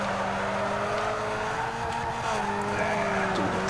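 Car tires skid and squeal after a late e-brake pull in the racing game Need for Speed Underground 2, a steady engine drone carrying a long, wavering tire screech at moderate volume.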